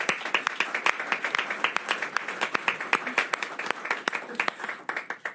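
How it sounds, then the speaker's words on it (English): Audience applause at a veterans advisory board meeting in New York City, a steady roomful of clapping hands sustained for several seconds, dense and even, easing off slightly at the end. "Give yourselves all a big round of applause,"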